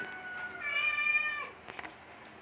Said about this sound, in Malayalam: എൻ്റെ പൂച്ച അവിടെ കിടന്ന് ക്യാ വെക്കുന്നുണ്ട്.